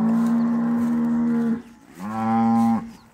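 Dairy cows on a farm, including a small mixed-breed cow, give two long, loud, close moos separated by a brief pause, with no talking.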